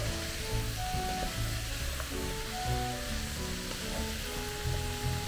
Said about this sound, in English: And we're going to stir the cabbage.